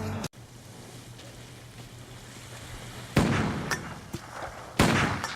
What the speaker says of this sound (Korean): 총성에 잠에서 깨는 루디.